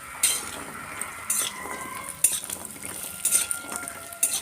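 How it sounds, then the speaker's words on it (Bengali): Dal bori, lentil dumplings, fry in hot mustard oil in a wok, with a soft sizzle under repeated sharp scrapes and clinks of a spoon stirring against the pan, close up and without talk. "তেলটা গরম হয়ে গেলে এর মধ্যে দিয়ে দিচ্ছি 50 গ্রাম ডালের বড়ি। ডালের বড়িটাকে একটু লাল করে ভেজে নেব।"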